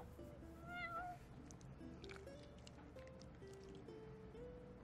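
A cat meows in the video game Final Fantasy XV, a few soft, high, wavering mews rising over a low, steady game background, faint and with no talk.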